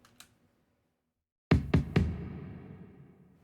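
After a couple of faint taps, three deep low tom hits from a virtual drum kit land in quick succession, booming and ringing out into a slowly fading decay.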